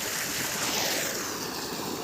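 Water from two running pump motors gushes through a farm field at dusk, a steady broadband rush with no breaks and no one talking.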